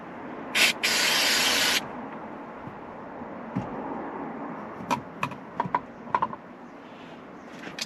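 A spray can hisses onto a slow-retracting car seat belt in one long burst after a brief short puff, followed by faint scattered clicks and taps.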